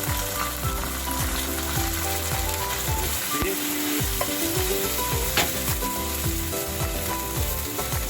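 Garlic prawns for prawn saag sizzle and fry steadily in a pan while being stirred, with scraping and clinking of the utensil throughout, close and loud with no talking.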